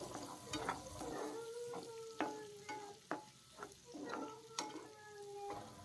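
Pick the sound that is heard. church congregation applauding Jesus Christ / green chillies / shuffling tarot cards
green chillies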